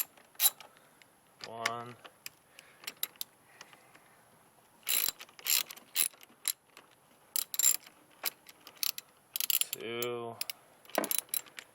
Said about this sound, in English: So you got to loosen up these nuts, take the connectors off, and take the battery out.